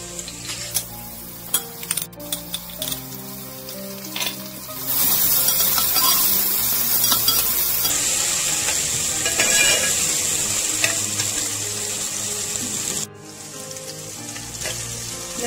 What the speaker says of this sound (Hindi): लहसुन अदरक को थोड़ा सा 2 मिनट फ्राई करने के बाद इसमें हम टमाटर डाल देंगे।